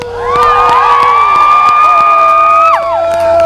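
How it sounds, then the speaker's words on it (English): Large crowd cheering and whooping at the debut of a holiday train at a St. Paul railway depot, loud and sustained with high children's shouts rising above, swelling then briefly dipping near the end. "what an awesome crowd"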